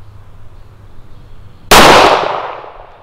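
A single sharp, loud shot from an S&W Governor .410/.45 revolver fired single action outdoors, an abrupt blast that rings and decays over about a second after quiet background noise.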